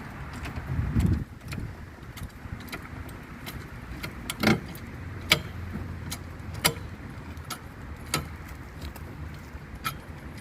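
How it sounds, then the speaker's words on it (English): Car jack raising a Chevrolet Aveo during a DIY oil change, a series of sharp metallic clicks and ratchet ticks spaced irregularly over a low steady background hum, with one louder clunk near the start. "what we're going to do now is just jack up the car"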